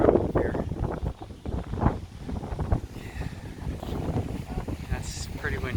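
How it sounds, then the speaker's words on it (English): Gusty wind buffeting a microphone at a seaside campground at Delaware Seashore State Park, a rough continuous roar with swells, with faint voices under it. "That's pretty windy."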